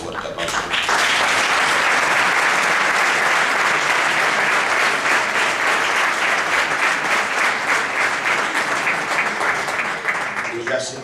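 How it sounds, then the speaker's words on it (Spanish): Loud, sustained audience applause fills a civic ceremony hall after a call for a big round of clapping, holding steady for about ten seconds before tapering off at the end. "por lo cual le pido un fuerte aplauso."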